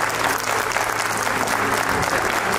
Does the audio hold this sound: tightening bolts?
no